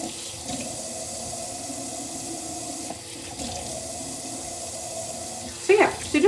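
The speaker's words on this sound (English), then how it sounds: "And then I'm just rinsing the seeds out, just so that they don't interfere with my cutting." Tap water runs steadily into a sink as pepper seeds are rinsed, a close continuous gush with a brief louder splash near the end.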